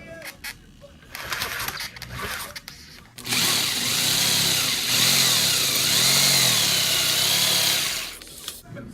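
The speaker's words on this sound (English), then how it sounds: "And I got this jigsaw angled. When we cut into it," An angled jigsaw cuts into a model railroad layout to shape a river shoreline, giving a loud, steady buzzing motor drone with wavering pitch that runs for about five seconds after a quieter start.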